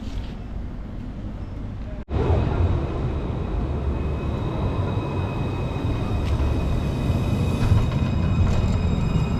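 A tram rolls through a street in Orléans, France, its steady rumble holding throughout after a brief cut near the start, with faint high tonal whines over dense low-frequency noise.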